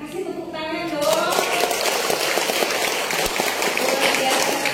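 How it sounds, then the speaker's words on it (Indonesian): An audience at an event breaks into sustained, dense applause for two guests, a speaking voice giving way after a second to steady, loud clapping that carries on to the end. "Kasih tepuk tangan dong."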